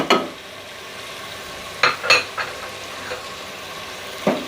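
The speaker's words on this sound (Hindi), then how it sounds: "इनको हम मिक्स करेंगे और अच्छी तरह से भून लेंगे" Coriander, salt, chili, turmeric and garam masala powders with tomatoes sizzle in a pan for a beef trotters curry. Over the steady frying hiss, a spoon scrapes and clinks against the pan in a few bursts, close up, with no talk.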